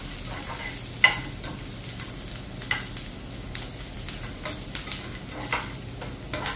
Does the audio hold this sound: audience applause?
no